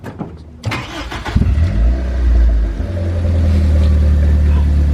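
A go-kart engine starts after a few knocks and revs, rising to a loud, close, sustained roar that holds steady through the end.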